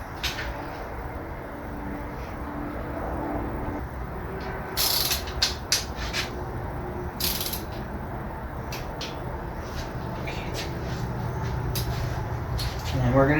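Wrench clicking as it tightens bolts on a small-block Chevy 350 Vortec engine, with short bursts of ratchet clicks spaced irregularly over a steady background, close by and moderately loud; someone talks at times.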